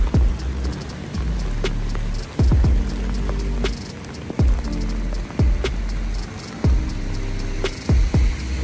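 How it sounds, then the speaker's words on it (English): Heavy rain pours steadily on a street in Skid Row, Los Angeles, with a dense, constant hiss, punctuated by occasional sharp drips and thuds close by; no voices. "that's what it's like to be Skid Row when it pours rain"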